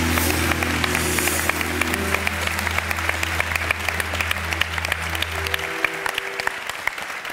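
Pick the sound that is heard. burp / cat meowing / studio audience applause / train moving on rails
studio audience applause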